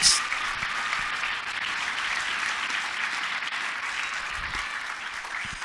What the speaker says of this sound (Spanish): Denle una ofrenda de palmas al Rey de Reyes